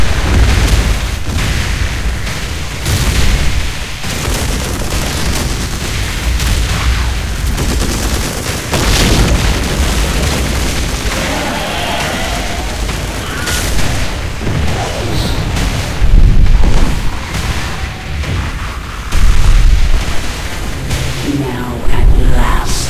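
Heavy, booming artillery explosions from StarCraft II siege tanks pound repeatedly and loudly over a dense battle din, with voices speaking faintly underneath.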